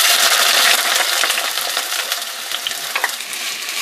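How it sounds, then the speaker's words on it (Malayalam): Four medium onions, finely chopped, dropped into hot oil in a clay pot for a Kerala-style chicken curry, bursting into a loud, close, steady sizzle that eases slightly, with a few light clicks, no talking. "അപ്പോൾ എണ്ണ ഇവിടെ ചൂടായിട്ടുണ്ട്. ഞാൻ ആദ്യം സവാള ഇട്ട് കൊടുക്കുകയാണ്."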